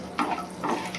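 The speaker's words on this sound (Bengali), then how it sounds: "একটু ভেজে নেব।" Whole spices fry in hot ghee in a pan for egg pulao, making a brief, soft sizzle with two quick stirring scrapes over about a second.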